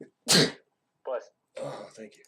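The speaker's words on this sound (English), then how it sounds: "I'm gonna sneeze." A single loud, close sneeze bursts out near the start, followed by people talking briefly.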